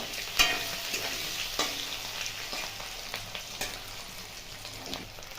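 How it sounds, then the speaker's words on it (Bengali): Raw banana and potato pieces fry in oil with salt and turmeric, giving a steady close sizzle with occasional sharper crackles and light stirring scrapes. "আর সামান্য হলুদ দিয়ে দিলাম, দিয়ে ভেজে নেব।"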